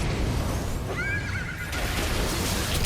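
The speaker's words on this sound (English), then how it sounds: "That horse, I swear, sometimes it takes off quicker." A horse in the video game Nioh gives a clear whinnying neigh of about a second, set against a dense, steady game soundscape with no talking.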